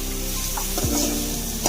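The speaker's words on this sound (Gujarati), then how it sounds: "ચમચાથી હલાવી દેવાનું, અને ગેસ ધીમ ફ્લેમ પર રાખવાનો" A spoon stirs onion masala in a pan over a low gas flame for paneer curry, scraping and swishing through a gentle sizzle, close and alone.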